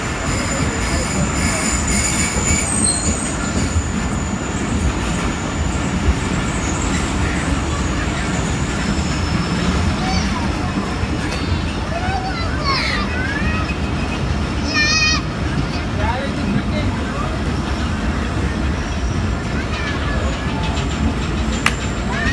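Pakistan Express leaving Karachi station behind schedule, wheels squealing and carriages rumbling steadily, with occasional metallic screeches and talk in the background throughout.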